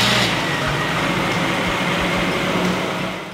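Cold start of a Koenig Specials Mercedes SEC engine, a car that has sat unused for a while, giving a loud, steady rumbling idle that runs continuously close by with no talking.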